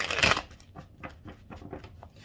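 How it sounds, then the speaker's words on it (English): Tarot cards being shuffled by hand, with a loud riffle-like burst at the start followed by a run of softer, quick card flicks and slides close by, without talk. "So let's go ahead and shuffle."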